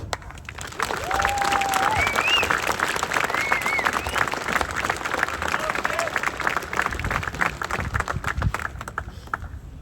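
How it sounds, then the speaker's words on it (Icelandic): A crowd at an outdoor protest rally claps loudly for the next speaker, Sveinn, with whistles and cheers over dense sustained applause that trails off into scattered claps near the end. "við skulum gefa Sveini öflugt klapp"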